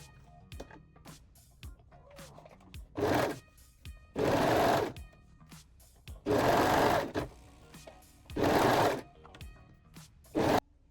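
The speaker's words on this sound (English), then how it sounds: "Turn the crotch piece right side out and sew the pieces together." A sewing machine stitches lingerie fabric pieces together in five loud bursts of whirring, separated by quiet gaps with light handling clicks and fabric rustle, close to the microphone.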